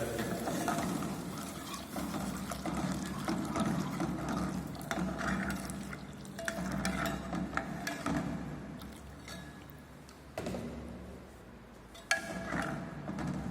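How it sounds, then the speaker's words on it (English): Milk, about 500 ml, poured into rice kheer in a pan, a soft liquid splashing and stirring with a few clinks of utensils, fairly quiet and close. "So now we are adding milk into it, almost 500 ml."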